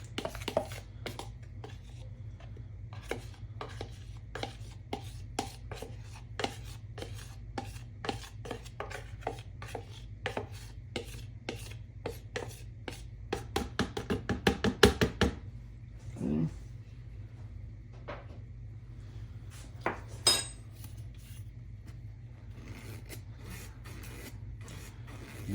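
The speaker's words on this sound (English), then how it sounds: "we're going to go ahead and get this in our mill, and we're going to sift it so that we get any bits or clumps out" A hand-cranked flour mill sifter works cake flour for a cake batter, giving a steady run of rapid scratchy, rasping strokes with a low hum beneath. The strokes grow denser for a moment in the middle of the clip.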